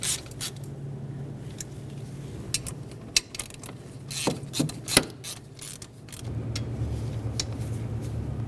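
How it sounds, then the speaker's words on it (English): Ratcheting wrench clicks and metallic scraping while tightening the 10mm fuel injector mounting bolts on a 1998-2011 Ford Ranger 2.3L four-cylinder, a few sharp clicks clustered near the middle over a low steady hum. "Start them in, snug them up, torque each of those to 18 foot-pounds."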